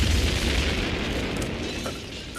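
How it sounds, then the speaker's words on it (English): A cartoon explosion as tanks blow up: a sustained, broad roaring blast rumbling steadily for a couple of seconds at moderate loudness, with no voices over it. "The equalizer's tanks are gonna blow!"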